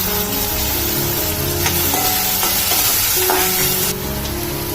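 Garlic and kokum hit hot oil in a pan for a Marathi-style prawn masala gravy, giving a loud, steady hissing sizzle that runs unbroken close by, with a slight shift in tone near the end.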